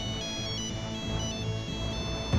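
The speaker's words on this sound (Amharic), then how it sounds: "ግን ይህን ስልክ አሁን አንድ ጊዜ ልመልስ።" A mobile phone ringtone plays a steady, tuneful electronic melody, fairly loud and alone, with no talking over it.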